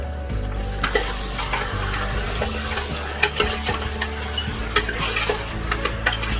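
About a kilo of lamb fries in a pan over medium heat on browned onions, giving a loud, steady sizzle broken by occasional utensil clinks and stirring scrapes, with no talking.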